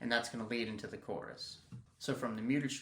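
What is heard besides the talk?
No distinct noise like a dog, phone or traffic.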